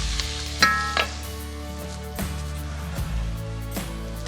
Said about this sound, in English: And now put the meat straight back into the pot. Give it a quick mix.